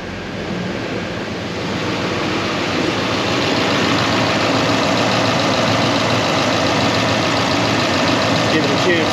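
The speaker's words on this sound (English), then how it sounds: "Watch this, high idle." A Duramax diesel pickup engine with a dual-alternator setup runs at steady high idle, a loud, continuous rumbling drone that holds level throughout with no break.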